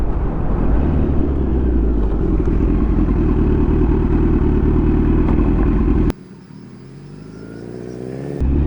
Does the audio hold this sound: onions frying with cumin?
no